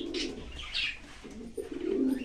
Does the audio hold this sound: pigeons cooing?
yes